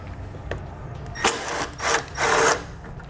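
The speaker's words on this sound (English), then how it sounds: "So I'm going to grab a 10mm socket and pull those out" A 10mm socket wrench works on washer tank bolts on a 2018 Ford Focus, giving a few short ratcheting and scraping bursts that grow louder toward the end, heard up close.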